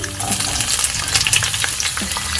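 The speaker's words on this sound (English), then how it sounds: "Now we'll add in the sliced onion and capsicum" Sliced onion and capsicum fry in hot white oil in a pan, producing a loud, dense sizzle and crackle with some stirring, close up and continuous for a couple of seconds.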